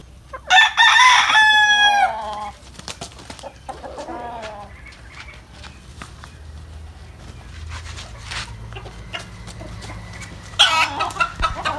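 A rooster crows loudly and close by in a long drawn-out call, followed by quieter clucks and farmyard noise, with a second crow starting near the end.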